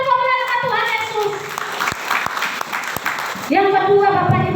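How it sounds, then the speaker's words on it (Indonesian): A church congregation claps during a sermon to glorify Jesus, a moderate spread of hand claps with a few sharp distinct claps, framed by a voice speaking before and after the clapping. "Berikan tepuk tangan untuk memuliakan Tuhan Yesus"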